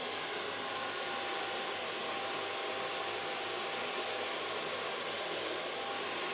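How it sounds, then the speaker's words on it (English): A hair dryer blows steadily and loudly on hair being styled with a medium-large brush, a continuous broadband whoosh that holds unbroken from start to finish with no voices. "Start blow drying."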